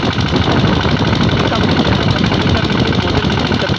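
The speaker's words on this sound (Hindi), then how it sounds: "ये इंजन वही है, बिल्कुल नए के जैसा चल रहा है" A diesel engine, recently repaired after a jammed nozzle, runs steadily with a loud, dense, even rumble and rapid chugging texture, close up and unbroken throughout.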